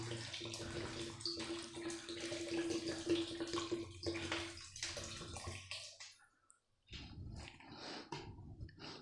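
Water pours into a cooking pot of sautéed vegetables for khichuri, a steady rushing splash that pauses briefly and resumes, close and moderately loud.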